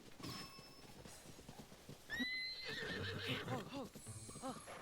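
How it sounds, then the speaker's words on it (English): A horse in The Legend of Zelda: Tears of the Kingdom whinnies loudly with a rising then falling cry over game background sounds, followed by hoof clip-clops and some talking. "Well, there's a horse."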